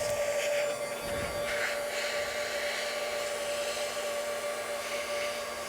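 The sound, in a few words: industrial heat gun blowing hot air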